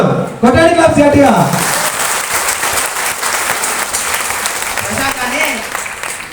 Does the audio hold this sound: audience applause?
yes